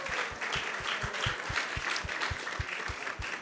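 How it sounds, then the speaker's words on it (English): An audience at a devotional Krishna Katha gathering claps in steady, sustained applause, a dense wash of hands with a regular rhythmic clap running through it, moderately loud and without talk. "let's give a big round of applause to everyone who has joined us today"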